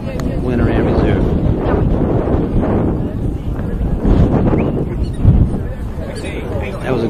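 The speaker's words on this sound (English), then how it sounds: "That was a gust of about 40 miles an hour." A strong wind gust of about 40 miles an hour buffets an outdoor microphone at a horse futurity event, roaring broadband and fairly loud, with a couple of stronger surges partway through and voices murmuring faintly beneath.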